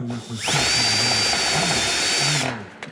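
A step drill bit bores out and enlarges a hole with a loud, steady high-pitched whine lasting about two seconds. A rising squeal marks the start, and low voice murmurs sit underneath.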